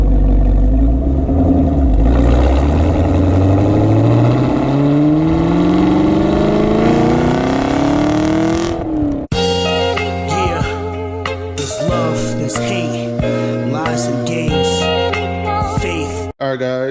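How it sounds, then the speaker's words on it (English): An old-school pushrod V8 car engine revs up loudly, its pitch climbing steadily for about nine seconds before the sound cuts abruptly to music. "that old school pushrod V8 sound"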